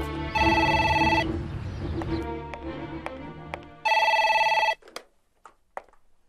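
A telephone rings with an incoming call, two loud bursts of ringing separated by a pause, with a few soft clicks and knocks after.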